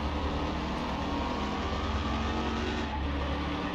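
A Pontiac GTO with a 455 engine in the video game Car Mechanic Simulator 21 roars under acceleration, a loud, steady, close engine drone held throughout without pause.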